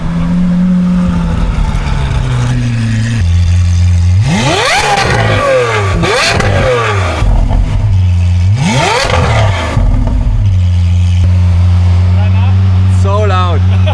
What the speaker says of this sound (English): I can't wait for this drive-by.